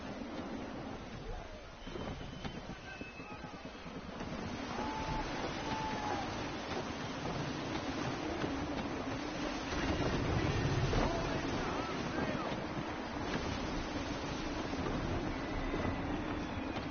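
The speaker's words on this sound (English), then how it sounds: "Gusty winds can be difficult to manage." Gusty wind blows at sea in Assassin's Creed 3 Remastered, a steady broad rush mixed with surf and water noise that swells in places, with faint tones and effects underneath.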